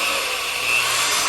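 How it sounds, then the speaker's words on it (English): A corded power drill bores through marked holes in a Callaway performance part for a C5 Corvette, a steady, loud, rough grinding whir that holds for the whole moment with no talking. "drill through these now"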